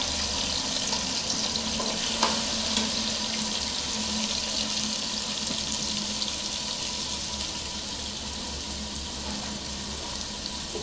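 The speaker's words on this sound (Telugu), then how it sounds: "ఆనియన్స్, టమాటాలు, పచ్చిమిరపకాయలు అయితే వేసుకుంటున్నానండి" Onions, tomatoes and green chillies fry in oil in a home kitchen, giving a steady, even hiss and sizzle that runs unbroken and fairly close throughout, with no voices.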